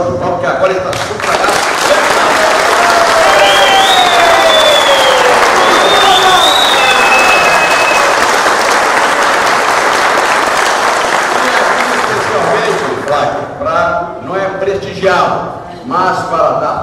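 A crowd at a Brazilian party event applauds a political candidate, loud continuous clapping with cheers and whistles for over ten seconds, then fading into scattered claps and voices.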